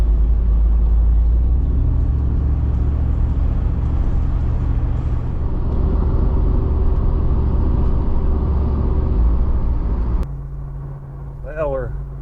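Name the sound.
Jeep Wrangler JL driving on a mountain road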